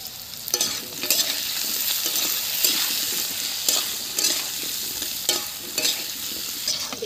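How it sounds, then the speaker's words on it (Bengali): Potatoes frying in oil with dried red chillies, five-spice tempering, salt and turmeric, stirred now and then: a steady close sizzle broken by periodic scraping strokes, with no talk. "দেখুন আলু কত সুন্দর ভাজা হয়ে গেছে"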